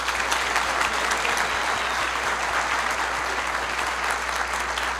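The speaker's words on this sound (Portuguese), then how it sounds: "Uma salva de palmas para ela ter aberto a boca." Sustained, dense audience applause at a business and investment talk, steady and loud throughout with a constant low hum from the sound system underneath.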